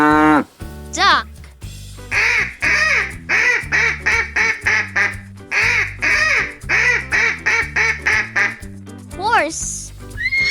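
A duck gives a rapid run of about fifteen short, loud quacks in an even rhythm over cheerful background music, with a child-directed voice briefly speaking before and after.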